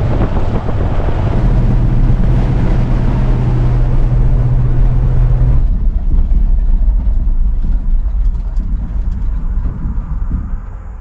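An old truck's engine rumbles steadily at close range on its first drive, a loud low drone with wind buffeting the microphone; a sustained low hum drops away partway through and the engine noise continues more roughly.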